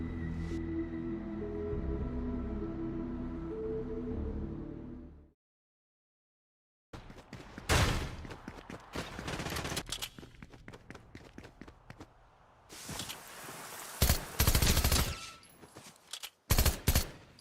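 Rapid bursts of video game gunfire crackle in uneven clusters after a stretch of music and a brief silence, with scattered footstep-like clatter between the volleys.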